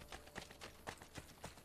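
Horse hooves clip-clop in Assassin's Creed Brotherhood, a steady rhythm of soft, moderately close steps from a summoned horse, with a faint game background underneath.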